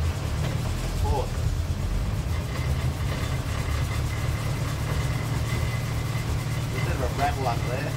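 A Datsun 1000 shed-find car's engine drones low and steady from inside the cabin while driving at about 20 mph on gravel, with some rattling, and someone speaks over it.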